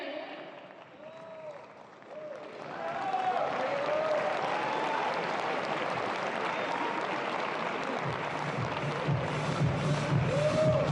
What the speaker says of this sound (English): he deserves such a great round of applause